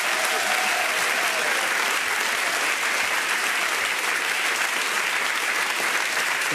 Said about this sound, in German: Das ist euer Applaus, der Applaus für die Männer von unserer Landfrau.